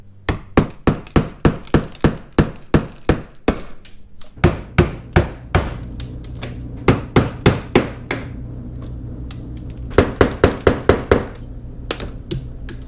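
Sharp metallic hammer strikes ring out in quick rhythmic runs, pausing between bursts, close and loud, as a hammer drives a screwdriver to knock out ten rivets on a Corvette C7's front end during a front splitter installation.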